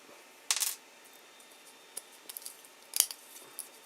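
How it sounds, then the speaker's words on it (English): A fingernail scrapes at loose hairline strands of 3D printer filament on a printed plastic part, giving a few faint, brief scratchy ticks, with two sharper bursts in a quiet room. "Just scraping it with my nail here."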